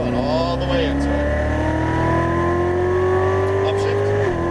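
A Chevrolet Corvette Z06 Stingray pulls hard at full throttle on a racetrack, its engine note climbing steadily and loud in one continuous sweep before easing near the end, with a driving instructor talking over it.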